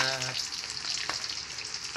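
Tilapia sizzles steadily in hot oil, a dense crackling hiss with a few louder pops, close up.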